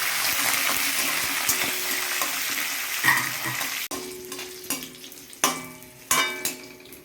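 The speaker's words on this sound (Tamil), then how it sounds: "இதை கொஞ்சம் வறுத்தாலும் நம்ம வந்து கருவேப்பிலை போட்டுக்கலாம் பச்சை மிளகா போட்டுக்கலாம்" Curry leaves, green chilli and dried red chillies fry in hot oil in a pan for mango rice, a dense steady sizzle with a few sharp crackles and spoon stirs near the end, close and loud, no voices.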